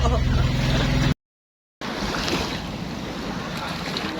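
A small boat moves across water with wind buffeting the microphone and waves splashing, broken by a short gap of silence.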